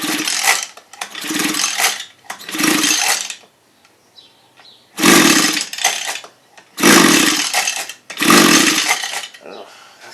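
A flooded Stihl FS75 string trimmer with fuel spitting from its carburetor gives six rough, mechanical bursts about a second long each, separated by short pauses, loud and close with no talking.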